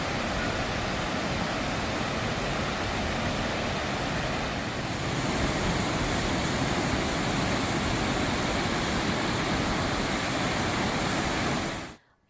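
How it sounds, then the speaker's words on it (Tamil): About 1680 cubic feet of surplus water pours out of Sathanur dam with the reservoir at 113 feet, a powerful, steady rushing roar that lasts about twelve seconds and then cuts off abruptly. "அணைக்கு வரும் 1680 கன அடி உபரி நீர் அப்படியே வெளியேற்றப்படுகிறது"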